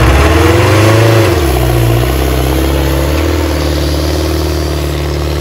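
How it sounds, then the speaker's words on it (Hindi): A tractor engine revs loudly and close, its deep throbbing pitch rising and then settling into a steady, heavy drone, with no voices. "ट्रैक्टर"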